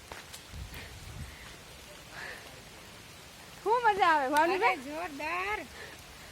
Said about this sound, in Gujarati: એકદમ વરસાદ ફૂલ આવે હે